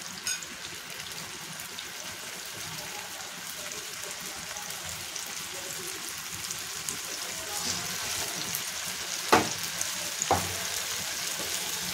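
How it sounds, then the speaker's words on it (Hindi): Mutton chops fry in oil over medium gas heat, turned until crispy, giving a steady close sizzle with a few sharper crackles and spatters near the end. "आपल्याला ते अल्टी पलटी करून ते चांगले फ्राय करून घ्यायचे, क्रिस्पी होईपर्यंत आपल्याला फ्राय करायचे आहेत"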